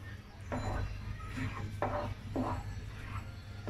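Pistachios and almonds being stirred through grated coconut in a pan, giving a few soft scraping, rustling strokes at an even pace over a low steady hum, with no talking.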